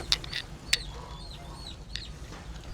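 Chickens and a rooster settle into their new coop, giving a few sharp clucks and short calls with quiet gaps between them.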